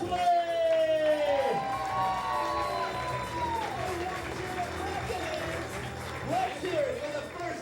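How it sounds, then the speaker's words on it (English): A wedding reception crowd cheers and claps for the matron of honor and best man as they enter, a loud continuous wash of clapping with rising whoops and shouting voices throughout. "let's have a round of applause for our matron of honor, Elena, escorted by Craig, and our best man, Wesley"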